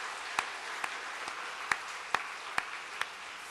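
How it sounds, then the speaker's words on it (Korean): Applause from a church congregation at a Christmas service, a soft, even wash of clapping with a few sharper nearby claps standing out at irregular intervals. "크게 격려의 박수 한번 보내겠습니다"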